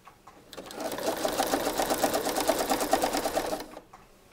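A sewing machine stitches elastic in quick short bursts, a steady rapid chatter for about three seconds that starts and stops abruptly, close and alone with no voices.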